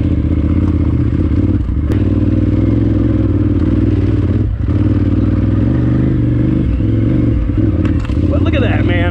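A KTM 990R motorcycle engine labors steadily while climbing a single-track trail, a loud close drone with occasional clatter and knocks from the bike over rough ground.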